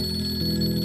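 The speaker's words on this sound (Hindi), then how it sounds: "ओ, जमीर का फोन आया" A telephone ringing indoors, a steady electronic ring with a sustained tone that stays loud and continuous through the whole short moment, with no voices.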